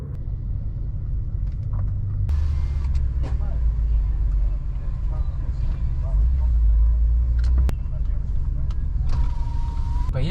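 From inside a Subaru Forester with a CVT, a deep engine rumble fills the cabin while it races a ring track in heavy rain in Vladivostok, with occasional clicks and a voice in the background.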